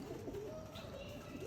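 Caged pigeons coo softly in low, throaty bursts that repeat against a hissy background, faint and close, with a voice murmuring under them.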